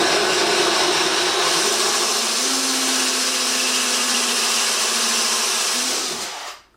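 A Porcadrill 365 diamond tip drill bit grinds into ceramic tile with a loud, steady whine. A pitch shift midway is followed by a sudden stop at the end.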